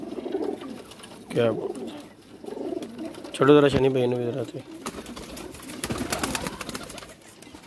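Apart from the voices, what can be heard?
pigeons cooing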